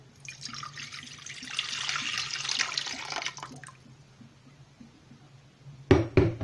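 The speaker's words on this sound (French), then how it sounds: "Là, je commence à faire un sirop. Donc, je mets à peu près 4 verres" Water pours into a pot for a sugar syrup in a steady splashing stream lasting a few seconds, followed by quiet and then a sharp clatter of a utensil or dish nearby.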